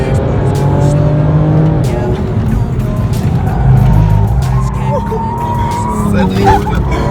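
A vehicle drifts at a motor show with tire squeal and engine noise mixed into a loud, continuous din of crowd and commentary, the screeching rising and falling over several seconds.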